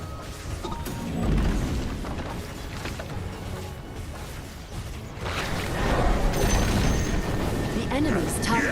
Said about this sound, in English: The enemy's top tower has fallen. And there go the fireworks.